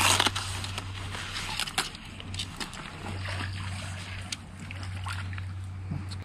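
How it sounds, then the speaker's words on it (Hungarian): Carp and other fish shift and splash in a lake among submerged bushes, a scatter of irregular wet splashes and drips close by over a steady low hum, with no voices. "A bokorcsövében folyamatosan mozgulódnak a halak."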